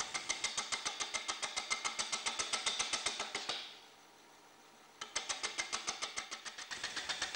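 Wood lathe turning a multi-sided bowl blank at modest speed: rapid, evenly spaced ticking knocks that fade out midway, leave a brief lull, then return at the same steady rhythm.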